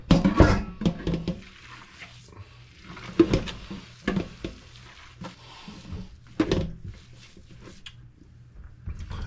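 Ground deer meat is squished and slapped as it is mixed by hand in a sink, with a few sharp wet bursts between quieter stretches of handling.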